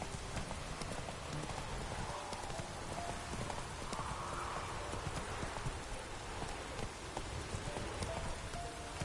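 Roach, a horse in The Witcher 3, trots with a steady, close clip-clop of hooves that runs throughout, over a soft patter like rain and with no talking.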